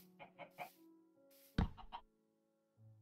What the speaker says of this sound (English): I can hear chickens, I just can't see them.